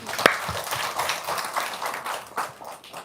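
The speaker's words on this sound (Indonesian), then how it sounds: "Oke, tepuk tangan dulu dong" An audience at an indoor gathering claps hands: a sharp close clap opens, then a loose burst of scattered clapping follows at moderate loudness without speech.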